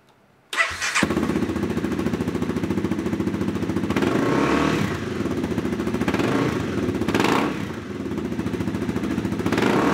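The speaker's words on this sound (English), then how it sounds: "I'm here with the Honda CBR250R and our aluminum black series full exhaust system." A 2011 Honda CBR250R motorcycle with a Two Brothers aluminum black series full race exhaust starts up and idles, a close, loud and steady buzzing drone with a couple of brief revs.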